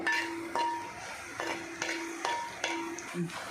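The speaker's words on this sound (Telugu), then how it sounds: "ఆ పన్నీరు కూడా దోరగా వేస్తే చాలా బాగుంటుందండి దోరగా వేగేయండి" Paneer fries in a pan with a soft, faint sizzle. A spatula scrapes and clinks against the metal in several distinct, irregular strokes, close and quiet.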